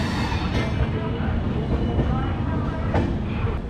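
The Lichchavi Express, a sleeper-and-general train, runs steadily after leaving Prayagraj, giving a continuous loud rumble with faint rhythmic wheel clatter from inside the coach.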